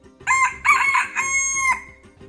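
A rooster crows in the video game Feather Family, a loud, close, drawn-out cock-a-doodle-doo in several rising and falling bursts lasting about a second and a half, with no one talking over it.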